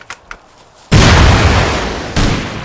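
A rocket launcher strikes a wooden wall in the game Rust: a faint click or two, then a loud booming blast that rumbles and decays, followed by a second heavier impact near the end.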